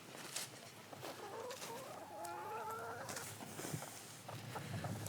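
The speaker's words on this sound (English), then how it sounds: "let's get these chickens back in" Several chickens cluck and murmur close by, soft repeated clucks rising and falling over quiet outdoor background.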